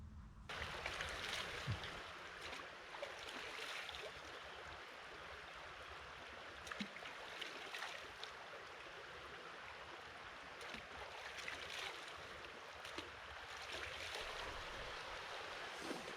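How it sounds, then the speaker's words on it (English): A small river running along a hiking trail, a broad steady rushing wash with occasional brighter splashes, heard alone and fairly soft throughout. "What a beautiful little river."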